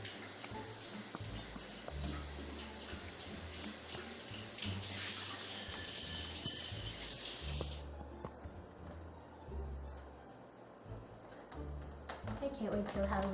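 Tap water runs steadily at a kitchen sink while something is rinsed before cooking, a continuous hissing stream that shuts off partway through, followed by quieter clatter, with a voice heard over it.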